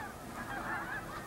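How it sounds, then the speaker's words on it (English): Flocks of snow geese honk continuously during migration on Assateague Island, a dense chorus of overlapping calls at a distance, fairly faint and steady. "flocks of snow geese arrive on Assateague Island"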